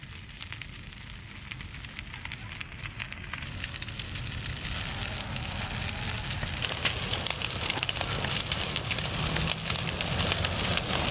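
A large outdoor bonfire of 120 fir trees burns with dense, hissing crackle and popping that slowly swells louder into a steady roar.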